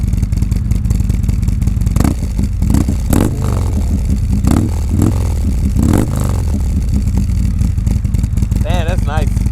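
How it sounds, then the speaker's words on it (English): A 2019 Harley-Davidson Road Glide motorcycle engine rumbles loudly nearby, with a deep throbbing idle and short rev bursts, while people talk over it. "Give it a little rev."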